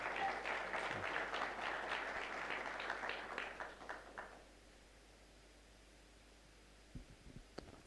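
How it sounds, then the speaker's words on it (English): Audience applause at an International Day of Peace event, a dense steady patter of many hands for about four seconds that fades out into near silence, with a few faint knocks near the end. "Can we give Nalwa a better clap?"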